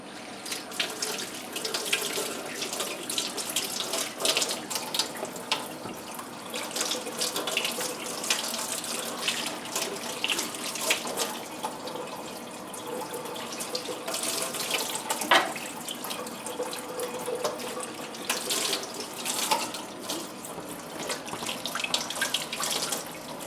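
A kitchen tap runs steadily into a sink while freshly soaked morel mushrooms are rinsed, a continuous close splashing hiss with shifting spatter as hands move the mushrooms under the stream, with no speech.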